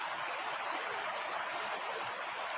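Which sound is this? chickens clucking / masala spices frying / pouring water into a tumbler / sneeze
pouring water into a tumbler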